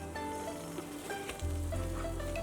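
A five-spice sesame flatbread fries in oil in a pan after being flipped, producing a gentle, continuous sizzle with scattered small crackles that grows slightly fuller partway through.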